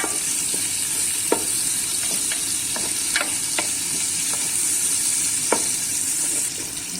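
Ginger and onion fry in a pan for a Filipino dish, giving a steady close sizzle with occasional light clicks and scrapes of stirring.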